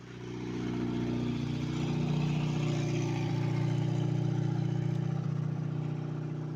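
A ZAZ Tavria car arriving, its steady mid-pitched engine hum swelling as it draws near and holding a constant drone, fairly close, with no talk over it.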